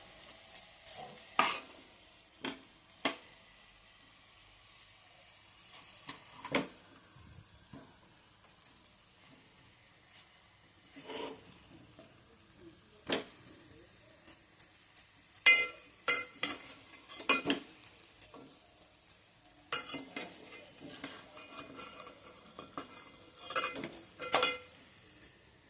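A bitter gourd bharta is turned and flipped in a pan, with sparse, quiet scraping and clinking strokes spread out over a faint background.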